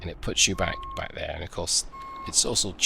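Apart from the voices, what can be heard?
No everyday noises stand out.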